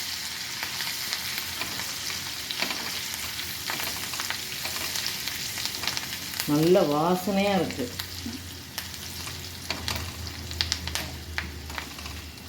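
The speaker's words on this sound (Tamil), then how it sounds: "இது தாளிக்கிறது தான்." Mustard seeds and spices crackling and sizzling in hot oil for tempering, a steady close frying hiss, with a brief spoken phrase midway.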